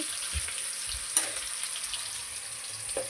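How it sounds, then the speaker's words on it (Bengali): Potatoes frying in mustard oil in a pan, a soft steady sizzle with a few faint clinks of a utensil, no talk. "প্রথমে আলুগুলো ভেজে নেবো সর্ষের তেলে"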